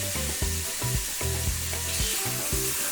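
Pork belly slices fry in hot oil in a pan that is not non-stick, giving a bright, constant sizzling hiss with periodic soft stirring knocks beneath.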